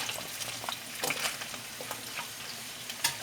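Carrots frying in oil in a pan, a soft close sizzle with scattered crackles and pops.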